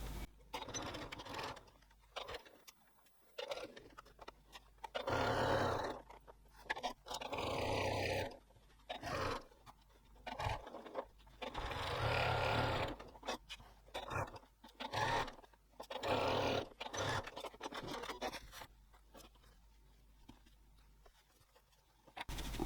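A sewing machine top stitching with a blind hemming foot runs in repeated loud bursts of rapid stitching, separated by short pauses, with no talking.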